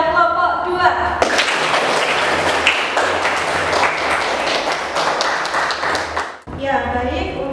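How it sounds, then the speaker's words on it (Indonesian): A classroom applauds the best group of the day: a sustained burst of dense clapping for about five seconds, framed by a teacher talking before and after. "Kita beri aplaus kepada kelompok 2"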